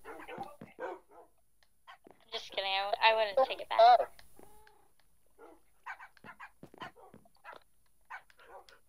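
Tamed wolf dogs in Minecraft bark in a quick burst of several yaps between stretches of talk.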